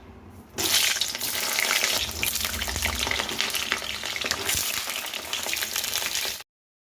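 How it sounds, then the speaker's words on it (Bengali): Pointed gourd (potol) pieces fry in hot oil in a wok, a loud, dense, continuous hissing sizzle that starts abruptly and runs steadily before cutting off. "পটলগুলো ভেজে নেব এবার"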